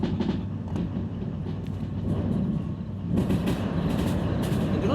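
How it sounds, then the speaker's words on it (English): Train wheels in the railway game Derail Valley rumble steadily and loudly, with a rhythmic clickety-clack that grows stronger and busier after the first few seconds, no voices over it. "the clickety clack noises is very fun"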